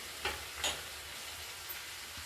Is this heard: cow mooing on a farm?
no